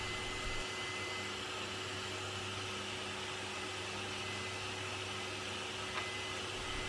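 A hot air rework station blows onto a PS3 GPU during reballing, giving a steady, fairly quiet broadband whoosh with a faint constant hum underneath, continuous and without talk.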